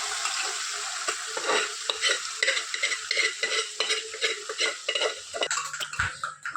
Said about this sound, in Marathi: आणि आता काकू हलवा कुकरमधनं कढईतून टाकतात.